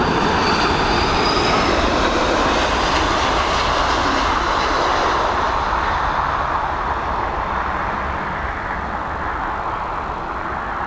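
Airliner landing at Dublin Airport, a loud sustained jet engine roar that slowly fades as the aircraft passes, with no voices.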